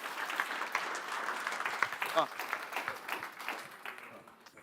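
Audience applauding a speaker at a marketing conference, a moderately distant burst of clapping that fades out over a few seconds, with a brief voice mid-way.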